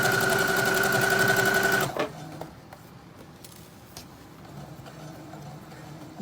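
A sewing machine runs a straight stitch on a fall wrap with a loud, steady, rapid mechanical whir for about two seconds, then stops, leaving quiet room noise with a few faint clicks and handling sounds.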